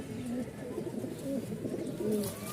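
Giribaz pigeons kept for eggs and squabs coo repeatedly at close range, the low rolling calls overlapping in a steady rhythm throughout.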